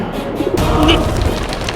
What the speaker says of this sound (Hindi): अब ये कौन सा कबूतर है?